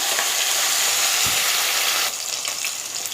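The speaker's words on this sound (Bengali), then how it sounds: "তেল গরম হয়ে গেছে, এবার আমি মাছ দিয়ে দিচ্ছি।" Rohu fish pieces slide into hot oil and fry with a loud, continuous hiss and crackle close by. The sizzle stays dense and steady throughout, dipping slightly partway.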